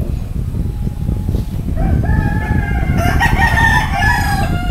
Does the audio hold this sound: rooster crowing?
yes